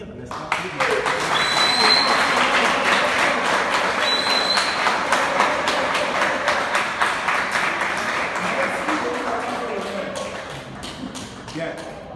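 An audience at a welcome ceremony in Cameroon applauds in a sustained wash of dense clapping that stays loud for several seconds and then slowly thins out, with some voices mixed in.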